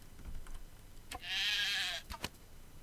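A single sheep bleats in the video game Craft the World, one clear drawn-out bleat over faint background noise and a few soft clicks.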